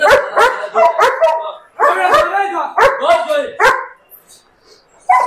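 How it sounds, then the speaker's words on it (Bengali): A German Shepherd guard dog barks loudly and repeatedly at close range, in a rapid series of deep barks with short pauses between them. "বড় বড় জার্মান শেফার্ড গার্ড ডগ হিসেবে পালন করা হয়"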